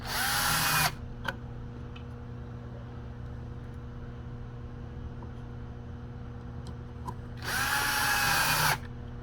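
A power drill drives screws into a control board interface in two loud, close whirring bursts at the start and end, separated by a quieter stretch of steady background hum and faint clicks.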